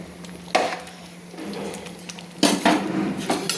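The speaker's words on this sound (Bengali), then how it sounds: "আলু তুলে আমি ঘেঁটে নিলাম" Metal spoon scraping and clinking in a cooking pot as potato is stirred into rice and lentils for a winter vegetable khichuri, a few distinct knocks and scrapes over a low steady background.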